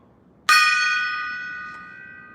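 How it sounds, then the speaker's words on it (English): A gong hit on its back side gives a single clear strike and a long, bright metallic ring that fades gradually, heard up close with no voices, and a faint small tap near the end. "Now we'll try a back gong."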